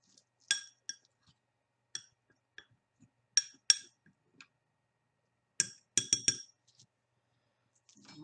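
A wooden spoon stirring sawdust incense ingredients in a bowl, giving scattered light clinks and taps in irregular bursts, some in quick clusters, fairly close and alone against near silence.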